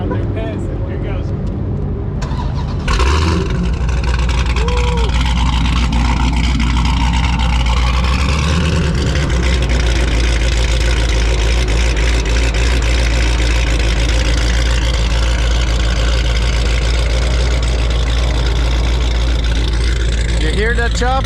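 A built, supercharged 426 Hemi with a big cam idles with the hood open, throbbing with a loud, lumpy, choppy rhythm. It sounds close and continuous, with a brief rev near the start.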